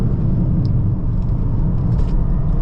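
A 2025 Toyota GR Corolla hatchback's engine pulls hard under acceleration, giving a loud, steady, close rumble with road noise that holds throughout.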